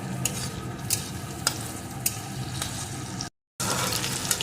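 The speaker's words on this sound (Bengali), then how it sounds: "এখন এর ভিতরে আমি টমেটো কুচিটা দিয়ে দেবো" Chopped tomato and onion stirred in a frying pan for an egg and brinjal fry, a steady sizzle with repeated scraping stirs, close and moderately loud, with a brief dropout near the end.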